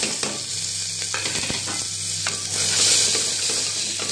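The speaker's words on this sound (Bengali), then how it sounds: "পেঁয়াজটা আমার লাল করে ভাজা হয়ে গেছে।" Finely chopped onion fries in a pan over a mustard-seed tempering, a loud continuous sizzle close by, broken by repeated scrapes and clinks of a spatula stirring against the metal.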